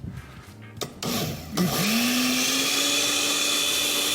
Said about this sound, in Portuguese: Tira sempre ele do copo do liquidificador, né? Aí, perfeito, ó. E põe pra bater.